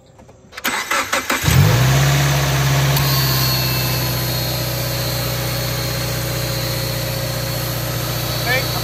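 A Subaru Impreza with a newly fitted serpentine belt cranks with a quick rattling burst, catches, and settles into a steady, close idle hum that runs to the end.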